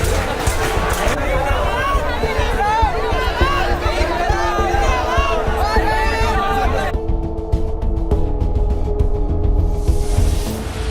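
Dense crowd of protesters packed tightly together, a loud continuous babble of many voices with shouting throughout.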